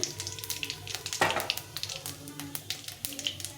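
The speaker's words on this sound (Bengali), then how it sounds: "এখানে আমি একটা শুকনো লঙ্কা ফোড়ন দেবো আর একটু জিরে ফোড়ন দেবো" Dried red chilli and cumin seeds tempering in hot oil in a pan, giving a soft, crackling sizzle with scattered pops, close and fairly quiet.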